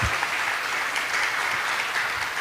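Workshop audience applauding HG Mahatma Prabhu at the close of a day-one japa workshop, with steady, dense clapping that stays loud and even throughout.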